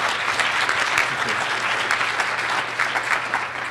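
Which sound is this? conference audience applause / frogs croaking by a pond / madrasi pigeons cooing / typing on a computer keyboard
conference audience applause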